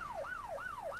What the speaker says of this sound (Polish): I odpalają syrenę, jak ja ruszam.